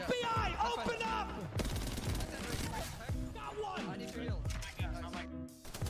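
Rapid bursts from the R99 submachine gun in Apex Legends, firing at close range in dense volleys mixed with game effects and a voice talking over the shooting.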